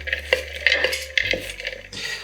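Salad of green beans with sliced red onions, olives and toasted salted almonds being mixed in a bowl, soft clinks and scrapes of utensils with short irregular taps, close and fairly quiet.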